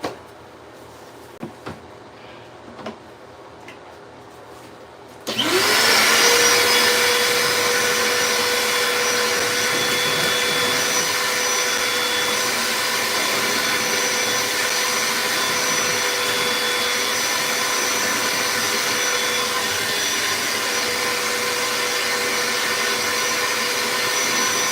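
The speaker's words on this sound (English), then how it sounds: "every Ultimate chip kit, we always recommend having a vacuum" A vacuum cleaner starts up after a few quiet seconds of light knocks and handling, then runs loud and close with a steady, unbroken whining roar while cleaning up debris from chipping work.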